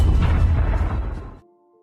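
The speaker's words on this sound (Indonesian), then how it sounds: "Untungnya Xiao berhasil melepas jam itu dan melemparkannya sebelum meledak." In a film, a watch bomb goes off with a loud, close explosion: a broad booming crash that rumbles and decays over about a second before cutting to near silence with a faint tone.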